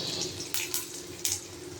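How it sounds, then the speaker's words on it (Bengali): Dry red chilies tempering in hot oil in a wok: a low steady sizzle broken by three short scraping clatters of a spoon against the pan. "শুকনো লঙ্কা ফোড়ন দিয়ে দিলাম।"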